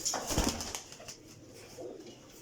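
Short soft coos from Teddy and Sialkoti cross flying pigeons, with a faint flutter of wings early on, then quieter ambient noise.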